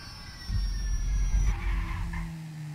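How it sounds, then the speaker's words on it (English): A jet plane descends in the video game GTA V, giving a steady loud rumble with a faint high whine and a tone that shifts partway through, heard alone with no talking. "Plane's coming down."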